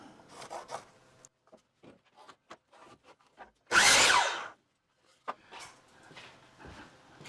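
Power tool cutting wooden pieces for a small wishing well roof, one loud burst of roughly a second in the middle, with quieter shop handling and tapping before and after.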